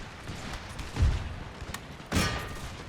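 A couple of ragged musket volleys crackle from line infantry in Empire: Total War, two short distinct bursts a second apart over a low battlefield rumble, moderately loud.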